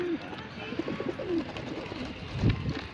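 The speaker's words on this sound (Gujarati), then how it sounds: "આ કબૂતરી છે" A female pigeon coos close by in soft, low, rolling phrases that repeat through the clip over faint background noise.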